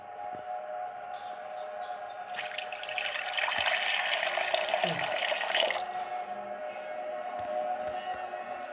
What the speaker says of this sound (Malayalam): കുറച്ചുകൂടി വെള്ളം ഒഴിക്കുക.